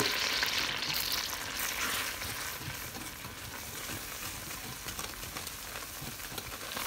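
Flour stirred into melted butter in a pan for lasagne, a constant soft sizzle with light scraping of the spoon throughout.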